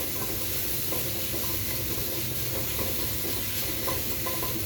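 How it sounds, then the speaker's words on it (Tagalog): Ingredients for ube soup stirred while frying until lightly browned, a dense, even sizzle and hiss filling the whole stretch with faint scraping, no voices. "Haluin lang ng haluin hanggang mag-brown konti"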